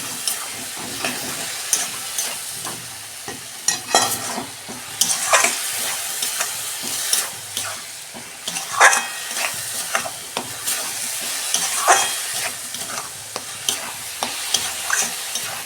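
Semolina is stirred with date palm jaggery in a hot pan for a sweet pitha, a steady close sizzle with repeated scraping stir strokes running throughout.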